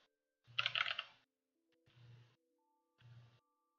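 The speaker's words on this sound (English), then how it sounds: "Do I just type it in the chat?" Three short bursts of computer keyboard typing, the first louder and quicker with rapid clacks, the next two softer and briefer, separated by quiet pauses.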